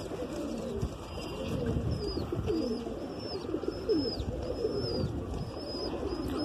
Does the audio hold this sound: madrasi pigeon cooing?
yes